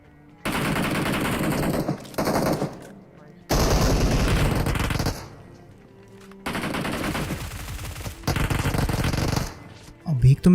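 Bursts of rapid automatic gunfire in the BGMI mobile battle royale, with loud rattling volleys separated by short pauses and another player's fire arriving from several directions.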